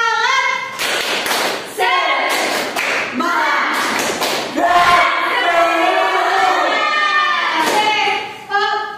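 A primary-school class in a microteaching civics lesson performs the tepuk semangat clapping chant, with sharp bursts of rhythmic claps mixed with children's shouted chanting voices and a teacher leading.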